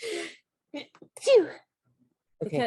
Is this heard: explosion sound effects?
no